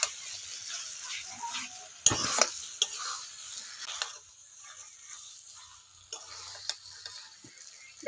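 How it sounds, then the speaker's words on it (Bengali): Taro stems stirred with ghee in a pan, with a faint sizzle under a few scattered spoon scrapes and clinks against the pan, quiet and close, with no voices. "ঘিটা দিয়ে ভালো করে নাড়াচাড়া করে নামিয়ে নেব"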